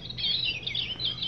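A plush Audubon purple finch bird toy plays its recorded song, a run of quick warbling chirps in two bursts, close and clear with no voices.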